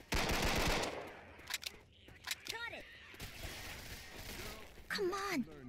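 Gunfire in the zombie shooter Left 4 Dead 2 on a custom campaign map, a burst of rapid automatic shots at the start followed by scattered shots and game noise, with players talking excitedly throughout.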